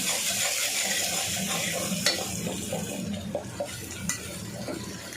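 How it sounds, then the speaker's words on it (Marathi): Spice masala with chili powder, turmeric and onion-garlic chutney fries in oil for an egg and whole masoor curry, a constant close sizzle with a spoon stirring and scraping against the pan. "काही आपण फ्राय करून घ्या चांगला मसाला तेलामध्ये"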